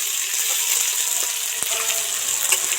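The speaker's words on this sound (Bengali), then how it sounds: "মুগ ডাল তো তেলের মধ্যে ভাজা হয়ে গেছে" Mung dal frying in hot oil gives off a steady, close sizzle with faint scraping and a few soft clicks throughout.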